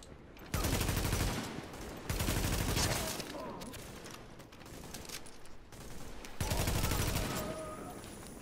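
Gunfire from the video game The Division crackles in repeated automatic bursts, loud volleys separated by brief lulls, with game effects in between.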